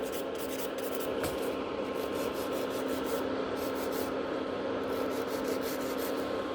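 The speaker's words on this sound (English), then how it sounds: "don't file too much at the one place, like file a little bit" Nail file shaping sculpted coffin-shape gel nails: constant close abrasive rubbing with quick back-and-forth strokes, a steady hiss throughout, no voices.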